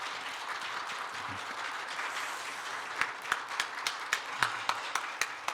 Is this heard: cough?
no